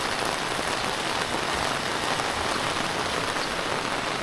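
Heavy rain pours onto an empty street in Laos, a dense, loud, steady hiss of drops hitting the pavement with no talking.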